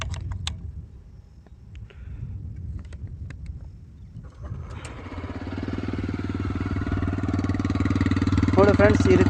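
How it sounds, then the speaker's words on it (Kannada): A TVS Raider 125 motorcycle engine starts about halfway through and then settles into a steady, close idle. The idle builds slightly in loudness, and speech can be heard over the first part. "ಈ ಒಂದು ಟಿ ವಿ ಎಸ್ನ ನಾವು ಸ್ಟಾರ್ಟ್ ಮಾಡಿ ಯಾವ ರೀತಿಯಾಗಿ ಸೌಂಡ್ ಬರುತ್ತೆ ಅಂತ ಸೌಂಡ್ನ ಚೆಕ್ ಮಾಡೋಣ."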